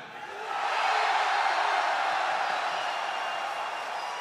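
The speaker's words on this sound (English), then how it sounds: "How about for Team Dire?" Fans packing a stadium at the 2017 International 7 Dota 2 tournament roar for Team Dire; the cheering rises within half a second into a dense, steady wash of voices and whoops that holds to the end.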